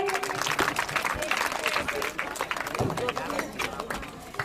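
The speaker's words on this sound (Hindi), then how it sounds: "जोरदार ताली बजाइए" An audience at a performance event applauds with dense, sustained clapping under a voice that keeps talking throughout.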